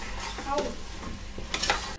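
Mutton mince with spice masala being stirred in a hot pan: a soft continuous sizzle under scraping strokes of a spoon, with a couple of sharper clinks of the utensil against the pan near the end.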